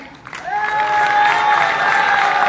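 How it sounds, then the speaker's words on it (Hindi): An audience breaks into loud, sustained applause and cheering that swells and holds steady. "इससे भी तालियां इतना ही बजेगा।"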